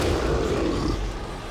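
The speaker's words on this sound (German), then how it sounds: "Oh, nette Explosion." A loud, deep explosion in the video game Dead Space 3 rumbles heavily and close for a moment, with a low roar that barely fades.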